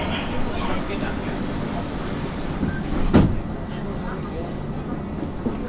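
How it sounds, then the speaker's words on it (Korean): An urban maglev train in South Korea pulls away from a station, a steady smooth hum heard from inside, with a brief louder whoosh midway. "Train departing."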